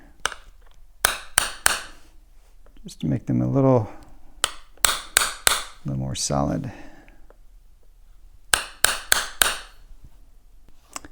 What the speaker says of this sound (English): taking a center punch and my hammer